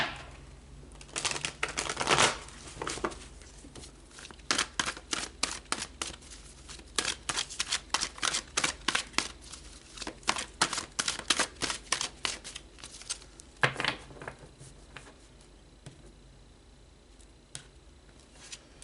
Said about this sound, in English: let's pull some more cards and go a bit deeper